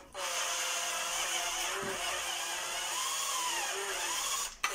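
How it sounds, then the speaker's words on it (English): Power drill boring a hole for an analog stick in a homemade gun controller, a close continuous whine lasting several seconds before cutting off abruptly. "Try not to drill through my fingers."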